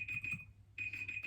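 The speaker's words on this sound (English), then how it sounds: "Let me get that timer" A timer alarm in a craft room sounds two bursts of rapid, high, piercing beeps split by a short pause, close and clear with nothing else over it.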